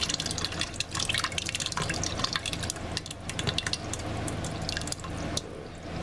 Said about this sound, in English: I'm going to pour part of the sauce